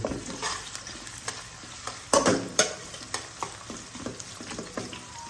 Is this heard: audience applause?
no